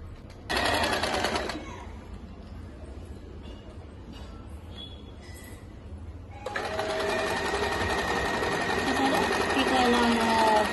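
Sewing machine zig-zag stitching on a saree runs in two bursts, a brief whirring run near the start and a longer steady one in the second half, with someone talking in the quiet stretch between.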